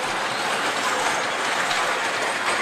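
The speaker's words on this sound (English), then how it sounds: "She's running that train." A train running along the tracks, with a steady, loud rolling rumble and faint rhythmic clatter, close by and continuous.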